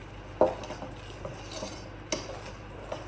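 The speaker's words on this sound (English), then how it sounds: "Just let me get this flour all mixed in." Flour being mixed into deep-dish cookie cake batter in a bowl: a few sharp knocks and scraping clinks of a utensil against the dish, with quiet gaps between them.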